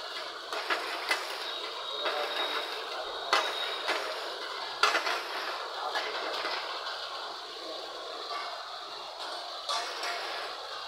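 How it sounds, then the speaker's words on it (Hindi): Chopped green chillies and onions frying in a pan in a restaurant kitchen, giving a steady broadband sizzle with scattered clinks of utensils against the pan throughout, with no voices. "और हरी मिर्ची को फ्राई कर रहे हैं।"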